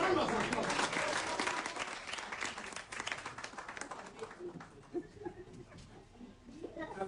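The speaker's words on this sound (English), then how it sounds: "A round of applause." Audience applause at a vocational skills training graduation ceremony, a burst of clapping that starts loud and fades over several seconds, with some voices mixed in.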